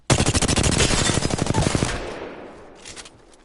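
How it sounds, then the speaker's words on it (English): A rapid burst of R-301 rifle fire in Apex Legends, a dense string of loud close shots lasting about two seconds before fading into the game's ambience, followed by a few faint later noises. "close range with the R301, it's like there's no recoil"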